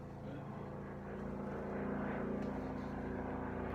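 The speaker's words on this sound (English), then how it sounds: "There's a plane up there in the sky." A propeller airplane drones overhead, a steady low engine hum that swells louder toward the middle and holds as it passes over, with no talking.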